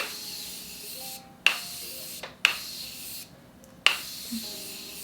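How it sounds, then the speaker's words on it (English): Three sharp bursts of a Morphe Continuous Setting Spray, each a close, sudden hiss that cuts off abruptly, with quiet pauses in between. "I'm gonna put some setting spray on."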